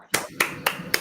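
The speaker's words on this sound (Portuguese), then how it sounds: "palmas para ele!" Four sharp claps ring out in a quick, slightly uneven rhythm at a celebration party, close by and distinct, each a crisp smack with brief silence between.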